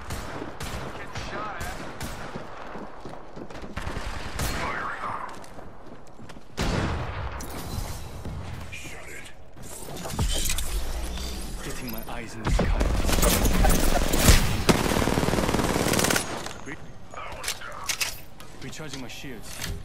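Rapid gunfire bursts and fusillades crackle through an Apex Legends match, loud and dense in several clusters, with players talking over the shooting.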